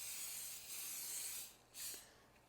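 Cooking oil spray hisses twice onto a plastic cutting board, a longer burst followed by a brief second puff, soft and close with no talking.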